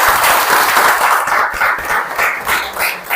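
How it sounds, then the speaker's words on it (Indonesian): Students in a classroom clap for a group that has just presented, a loud, close burst of applause that swells and dips unevenly across its few seconds, with individual claps audible in the mix. "Berikan aplaus kepada kelompok 1."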